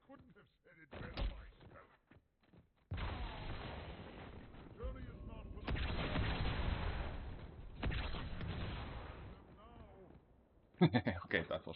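Loud game explosions from Halo: The Master Chief Collection, with booming blasts and heavy bursts that rise and fall across the stretch and a sharp final blast near the end, while a voice talks at times.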